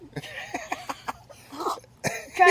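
A short burst of coughing and throat-clearing noises close by, with a sneeze-like outburst near the end.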